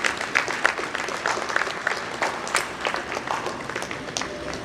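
A crowd at a national education stakeholders' conference claps, producing a continuous uneven patter of many hands with small swells in intensity over a few seconds, heard close and without talk.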